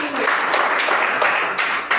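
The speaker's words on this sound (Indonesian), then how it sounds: "Ya, tepuk tangan dulu untuk kelompok 1." Classroom group clapping for group 1 after a quiz answer, a steady, fairly loud patter of hands across the whole stretch.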